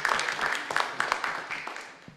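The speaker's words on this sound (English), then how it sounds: "let's give her a round of applause," At a Tea Party meeting, a room of people applauds an event organizer with a dense burst of clapping that gradually fades over about two seconds, without talking over it.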